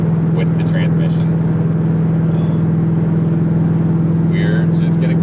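A 1988 Ford LTD Crown Victoria fitted with a 5-speed transmission is heard driving, with a steady low engine drone and road noise holding evenly throughout, near and continuous, and faint chirps above it.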